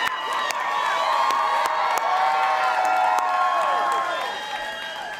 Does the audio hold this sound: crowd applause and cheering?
yes